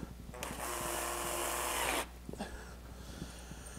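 A power drill drives a countersunk screw into a wooden chest of drawers in a single burst of about one and a half seconds, followed by faint handling clicks.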